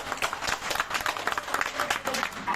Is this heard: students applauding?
yes